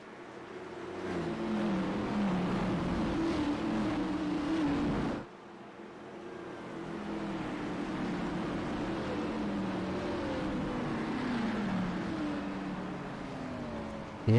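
Xfinity Series stock cars running double file at Las Vegas under caution, a steady close engine drone with shifting pitch, a sudden cut around five seconds, then the rumbling pack resumes.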